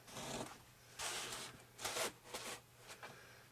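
Material cut out for an RC airplane build: several close, raspy scraping strokes in irregular bursts, like a blade drawn through foam, over a faint low hum.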